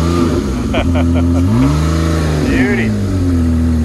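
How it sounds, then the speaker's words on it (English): A Ford Fusion's engine revs up loudly and close, the pitch climbing, holding and easing back in a couple of swells over a steady idle, while a person speaks briefly over it. "Rev her up."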